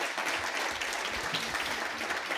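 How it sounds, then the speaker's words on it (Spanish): Audience applause after a talk on industrial policy, a steady dense roar of many clapping hands filling the room, loud and continuous throughout. "Un aplauso."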